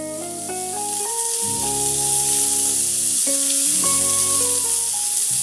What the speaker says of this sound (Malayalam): ഇനി നമ്മൾ അരച്ചു വെച്ചിരിക്കുന്ന ചക്ക ചേർക്കാം.